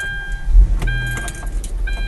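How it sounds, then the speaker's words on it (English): A newly bought car is started up, a short low engine crank and rumble mixed with high dashboard chime tones and a jangle of keys, all near. "Okay, now I will turn on the car."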